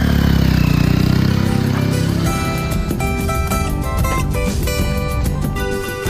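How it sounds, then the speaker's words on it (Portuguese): Motorcycle engine running steadily and loud throughout while riding along a busy, rough rural road, with a broadband roar and tonal engine harmonics that shift partway through. "O Ramiro e a Sueli vão de moto para levar a comida do pessoal."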